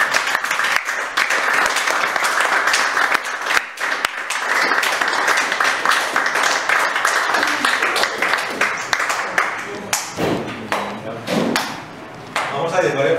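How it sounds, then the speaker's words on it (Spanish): A church congregation claps for the Lord after a prayer, a loud, crisp round of applause that thins out toward the end, where scattered claps and a voice break through. "Un aplauso al Señor, hermano."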